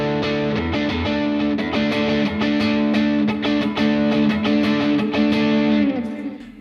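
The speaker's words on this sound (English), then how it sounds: "And now I'm going to add that overdrive." Overdriven electric guitar with reverb and delay on a rock tone, playing a steady stream of sustained, distorted chords and notes, loud and continuous throughout with no voice.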